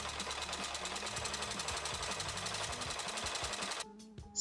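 A sewing machine runs fast, stitching down the long edge of a folded tote bag strap, a rapid continuous mechanical chatter up close that stops abruptly near the end.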